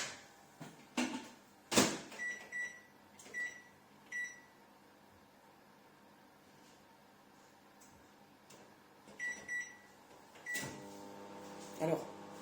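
A microwave oven runs while heating tart filling, a steady low hum under a series of clicks and knocks, with a few louder clunks as it stops and the door works.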